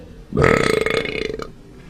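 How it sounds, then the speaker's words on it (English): A long, loud, gurgling burp lasting over a second, close to the mic and heard alone with no talking. "Don't use that burp in there."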